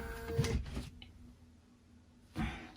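A sewing machine set up for free motion quilting makes two short mechanical whirring bursts as the needle drops, close and moderately loud, with a quiet pause between them.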